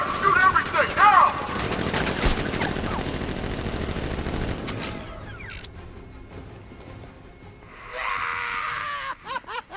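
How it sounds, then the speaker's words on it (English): Gunfire in the Batman: Arkham Knight video game, a dense burst of overlapping shots and automatic fire over the first half, under shouting voices, before dropping away to quieter mechanical sounds and a later swell of noise. "Open fire! Shoot everything!"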